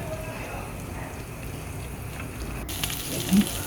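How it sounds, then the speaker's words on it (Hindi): Half a cup of water goes into a karahi pan of fried chicken gola kababs, giving a steady hissing gush mixed with sizzling that shifts abruptly near the end. "अब इसमें मैं हाफ़ कप पानी ऐड कर रही हूँ"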